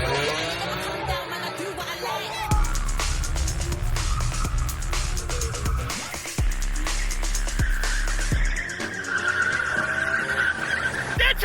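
A BMW E46 M3 pulls away with its tires skidding and squealing, the engine revving hard close by, while excited voices shout over the noise.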